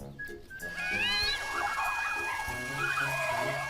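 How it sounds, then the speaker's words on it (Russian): A radio-controlled toy ambulance in a children's kitten video game sounds a warbling electronic siren, with rising and falling tones over soft background game sounds. "Это, наверное, радиоуправляемая скорая помощь"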